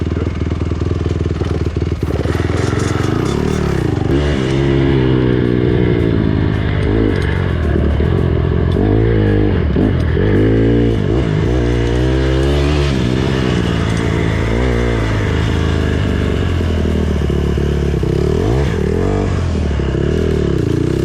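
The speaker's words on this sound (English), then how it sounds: "you do a burnout on that too?" A motorcycle holds a loud, steady roar for the whole stretch, its engine revving up and down through repeated swells while the spinning rear tire scrapes and clatters against the ground nearby.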